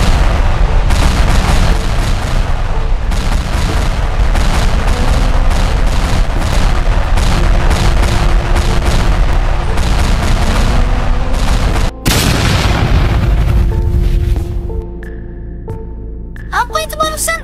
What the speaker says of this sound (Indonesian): Jangan-jangan itu suara roket launcher dari tim polisi.